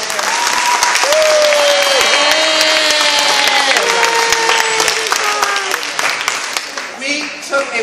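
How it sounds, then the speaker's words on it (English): A music academy audience at a final showcase applauds its teachers with loud, continuous clapping and a few cheers, while a sustained tone and some voices carry over the crowd noise before it tapers near the end. "I feel like we should give a nice round of applause to our teachers"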